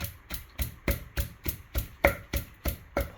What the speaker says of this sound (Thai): โอเคก็ตำให้คลุกเข้าให้เข้ากัน